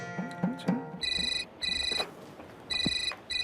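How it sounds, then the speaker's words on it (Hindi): A phone ringtone plays in repeated electronic bursts, fairly close, with brief pauses between rings over a faint background. "बीवी को याद किया, बीवी का फोन है।"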